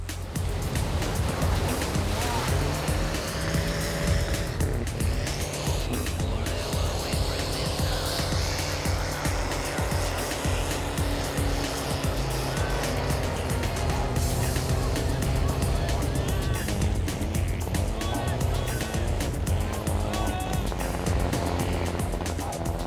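Four-wheel-drive jeeps plough through lake and river water, a continuous loud wash of churning, splashing water mixed with engine rumble, steady throughout with no clear voices.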